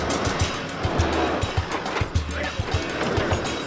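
A stock Mazda BT50 four-wheel drive grinds up a steep fire trail, its engine revving unevenly with bursts of tyre scrabbling and clattering gravel close by, while faint voices murmur under the noise.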